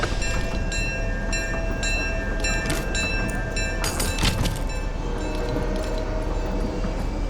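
A train ride in the Fortnite video game plays as a continuous rolling rumble, with rhythmic metallic clacks and rattles repeating over it at a moderate level.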